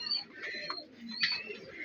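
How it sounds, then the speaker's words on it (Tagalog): A pigeon coos softly close by, a few low murmuring calls over quiet background chirps from other birds, with no talking. "Magandang kalapati, uwi-uwian ka kahit ilang araw."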